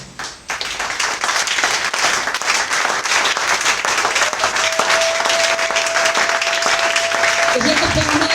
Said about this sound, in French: tu vas acclamer pour toi-même.